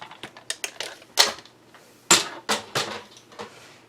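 A Cricut cutting machine slices through card stock, giving a run of sharp, uneven clicks and brief scraping bursts, with a few louder snaps standing out, close and alone with no talk.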